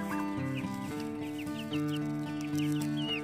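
Chickens clucking repeatedly at close range over a steady background hum on an Alberta farm, no talking.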